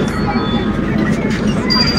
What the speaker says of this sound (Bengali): ট্রেন এসে পৌঁছালো স্টেশন মহাত্মা গান্ধী রোড।